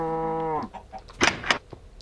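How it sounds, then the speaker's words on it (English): A cow in the video game Minecraft lets out one clear, loud moo at the start, followed by short clicks and rustling game sounds. "How rude of you to come to my house and just moo and moo and moo."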